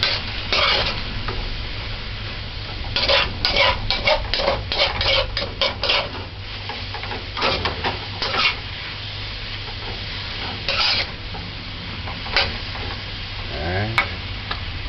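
Cabbage and fish stir-frying in a pan, a steady sizzle broken by many quick, repeated spatula scrapes and stirs, loud and close, with no voices.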